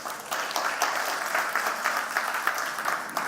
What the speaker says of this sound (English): can you give this guy a round of applause?